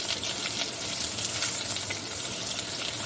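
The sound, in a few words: potato slices frying in oil, stirred with spoon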